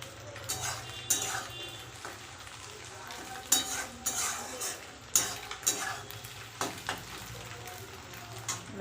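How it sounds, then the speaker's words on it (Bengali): Onion and egg fry together in oil that sizzles steadily in a pan while a utensil scrapes and stirs, with intermittent clinks against the metal; close and moderately loud. "পেঁয়াজ আর ডিম একসাথে ভেজে নিচ্ছি"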